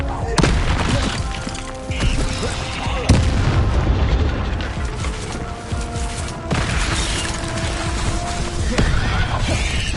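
Heavy booming blasts from the Bombarda spell in Hogwarts Legacy erupt repeatedly, with sharp impacts and rumbling debris that fill the scene loudly, while a voice sits partly beneath the noise.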